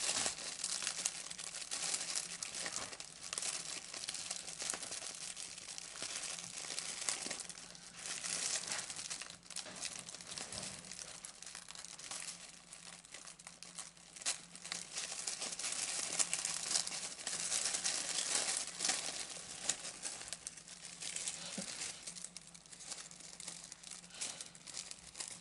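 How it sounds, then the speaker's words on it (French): Brown tissue paper from a monthly craft subscription box being unwrapped and crinkled, a steady close rustling and crackling that runs continuously with no talk. "Ce mois-ci nous avons un joli papier de soie marron."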